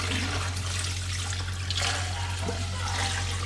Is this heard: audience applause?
no